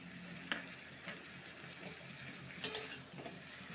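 Garlic, onion, tomato, cumin, coriander and chili pastes fry in a pan with a soft, steady sizzle, broken by a few sharp clinks of a utensil stirring against the pan.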